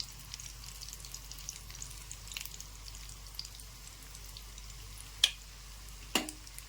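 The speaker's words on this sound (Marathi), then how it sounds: "आता त्याला थोडंसं शाडो फ्राय होऊ देऊ आपण" Potato and onion slices shallow frying in oil give a faint, steady sizzle, broken by two sharp pops or drips near the end.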